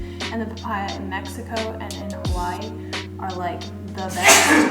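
A single sharp sneeze bursts out near the end of a woman's close, continuous talk about papaya in a kitchen.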